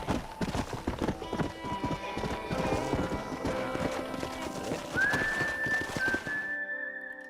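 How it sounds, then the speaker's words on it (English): Horses trot with steady clip-clopping hooves in the Western video game Red Dead Redemption, with a long, high, whistle-like whinny rising near the end before the sound cuts off. "We got some fine horses."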